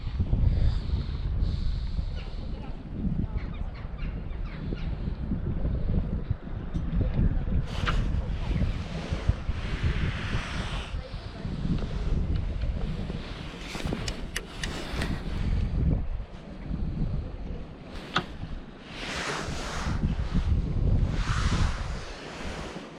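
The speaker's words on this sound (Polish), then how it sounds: "wiatr po prostu nie daje wytchnienia. Na pewno to słychać w nagraniu." Heavy, cold winter wind buffets the microphone continuously while float fishing for roach, a loud rumbling roar with gusty surges, mixed with waves and water sounds outdoors.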